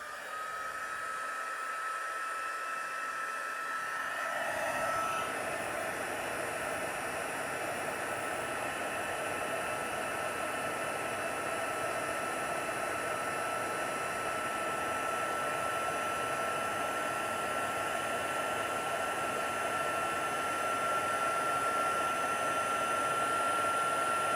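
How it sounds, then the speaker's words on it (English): A steady, loud blowing hiss starts after a few seconds and continues unbroken as a heat gun runs close by, warming up for card making. "I'm just going to heat my heat gun up."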